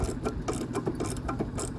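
A power tool tightens a small rubber well nut on an RV air conditioner, a short close run of rapid rattling, buzzing pulses at an even rhythm.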